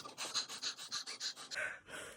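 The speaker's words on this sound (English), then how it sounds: "You have to breathe a lot, like this." Rapid rhythmic panting breaths demonstrated as a labor breathing technique, about eight quick even huffs followed by two longer exhales, close and clear with no talking.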